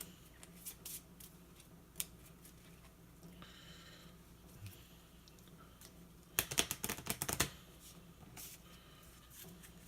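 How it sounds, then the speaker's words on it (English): A deck of game cards is shuffled by hand, a dense burst of rapid riffling clicks that comes through clearly near the middle after scattered soft handling noises, all fairly quiet and close with no talking. "I'm going to quickly shuffle my deck here."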